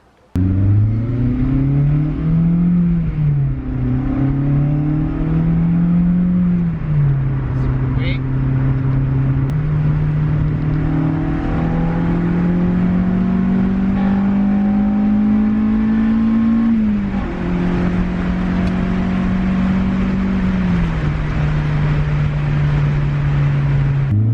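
An Acura RSX fitted with an HKS Hi-Power exhaust on a test drive, its loud, close engine note droning and rising and falling through the gears over a steady rumble.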